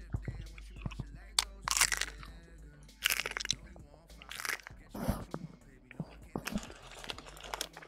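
Crunchy ROB's chips being chewed close to the mic, with loud bursts of crisp crunching and biting repeating every second or so, mixed with soft whispery talking.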